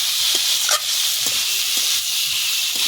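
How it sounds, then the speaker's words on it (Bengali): Potato and cauliflower pieces frying with spices in a pan, a steady hiss of sizzling oil with a few faint stirring scrapes, close and continuous, no voices. "এবার আলু আর এই কপিটা দিয়ে দেবো ফুলকপি ভালো করে কষিয়ে নেব"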